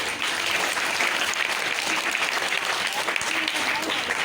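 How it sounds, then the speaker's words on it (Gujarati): Parents at a school meeting in Ghatkopar, Mumbai, applaud together in a dense, sustained burst of clapping that stays loud and even throughout, with no voices rising above it. "તાળીઓ પાડો."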